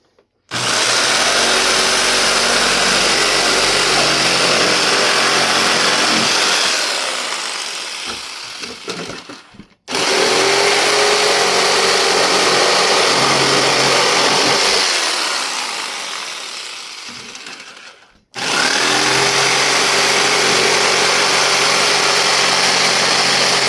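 A power drill bores holes for a homemade mounting bracket in three long, loud bursts of steady whirring, each trailing off as the motor slows before the next run starts.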